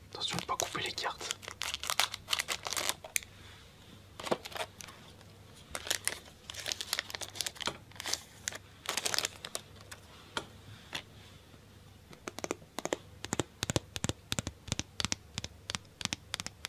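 A Yu-Gi-Oh booster pack is cut and torn open up close, with soft crinkling, scratching and ticking clicks of foil and card in irregular bursts under quiet, close French speech.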